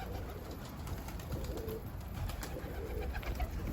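Pigeons at a backyard feeder, with soft cooing and rustling wingbeats rising and falling close by, steady throughout with no voices.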